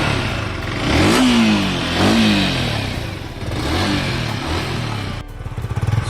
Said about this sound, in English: So let's check the sound of this bike.